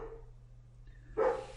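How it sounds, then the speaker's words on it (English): A single dog bark bursts out loud and close near the end, after a quiet stretch with a steady low hum in a room where a lecture is being recorded. "Oh, that's my dog."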